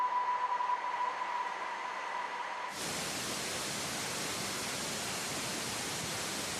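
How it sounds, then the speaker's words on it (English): A faint steady tone with a low hum gives way abruptly to a loud, even hiss of white noise that continues unchanged to the end. "if you look at a dead cell, for instance, you will effectively hear something like white noise, like shh."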